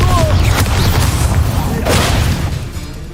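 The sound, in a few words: Confringo fire spell exploding, video game Hogwarts Legacy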